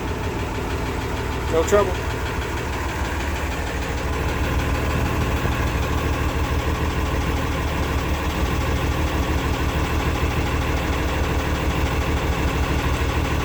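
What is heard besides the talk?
new tractor engine started and idling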